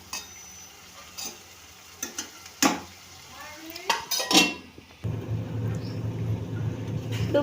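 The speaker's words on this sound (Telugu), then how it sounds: "ఇప్పుడు ప్లేట్ తీసి కలపెట్టుకున్నాము ఒకసారి" A spoon clanks and scrapes around a pan of Andhra-style prawn and egg curry with onion paste, with scattered metallic knocks before a steady low sizzling hiss takes over, all close up.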